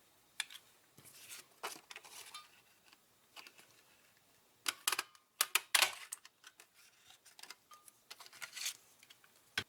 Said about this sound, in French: nous allons utiliser la perforatrice 2 ovales et je vais notamment utiliser mon ovale festonné